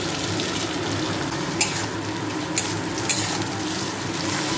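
Gobindobhog rice frying in a hot pan for fish-head muri ghonto, a dense, steady sizzle heard up close, broken by a few brief scrapes of stirring.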